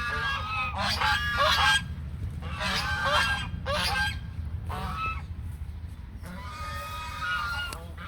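Ducks in a rice field let out loud, nasal honking calls in repeated bursts, several overlapping, with short pauses between groups and a low background hum.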